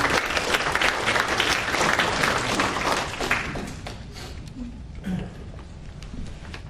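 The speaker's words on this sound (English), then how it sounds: "Please welcome Mr. Jack Romanoff with a big round of applause." Loud, dense audience applause at a Korean food fair as a food sales company president is welcomed on stage, continuous and fading gradually over several seconds.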